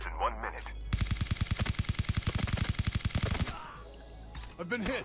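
Rapid automatic gunfire in Call of Duty Mobile battle royale rattles in one sustained burst of evenly spaced shots lasting over two seconds, with a voice speaking briefly before and after.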